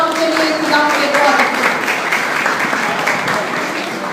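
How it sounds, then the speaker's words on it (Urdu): A church congregation at a sermon on the First Beatitude claps loudly and steadily, while a voice speaks or calls out over the applause near the start. "آئے زوردار تالیاں خدا کے کلام کے لیے"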